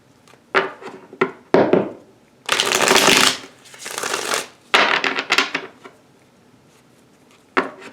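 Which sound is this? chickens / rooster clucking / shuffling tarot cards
shuffling tarot cards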